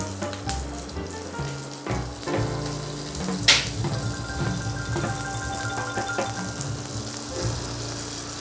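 Pork spring rolls frying in hot oil in a pan, a steady close sizzle and crackle with a few sharp pops and light clatter as they go in, no talk.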